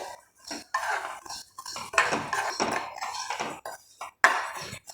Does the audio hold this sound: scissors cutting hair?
no